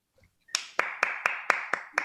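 Seven slow, evenly spaced claps ring out crisply, close and moderately loud, with no voices.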